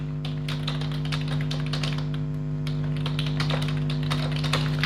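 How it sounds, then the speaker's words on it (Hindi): Rapid, uneven clicking of keys on a computer keyboard as data is typed in, close and steady, over a constant low electrical hum. "हम डेटा एंटर करते हैं इसमें"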